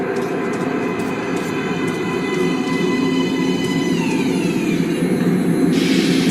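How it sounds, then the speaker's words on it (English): An underground metro train in the video game Metro: Last Light rolls into a platform with a loud, continuous roar, clattering wheels and a rising metallic squeal near the end. "Please step away from the edge of the platform. Train coming in."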